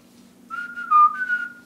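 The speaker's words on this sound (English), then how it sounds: "I can whistle with peanut butter" A short, wavering whistle by someone with peanut butter in the mouth, a few bent pitch glides close to the microphone over a low steady hum.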